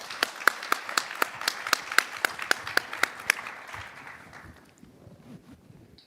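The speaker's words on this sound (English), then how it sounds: "could we have a round of applause for our panelists?" Clapping for panelists at an industry conference session, with a run of sharp, evenly spaced claps ringing through the hall and then fading into a soft wash of scattered applause and room noise.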